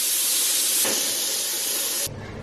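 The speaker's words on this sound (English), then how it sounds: "I've let all the steam out of my pressure cooker." Loud, steady hiss of steam venting from a pressure cooker while a beef curry cooks, broad and continuous for about two seconds before cutting off abruptly to a low hum.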